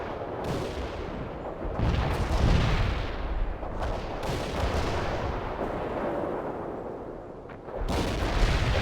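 Artillery strike explosions in the World in Conflict video game: a loud, sustained barrage of booming impacts and crackling blasts rolling on for several seconds, with sharper bursts at intervals and no voices.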